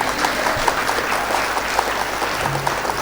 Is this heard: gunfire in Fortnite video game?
no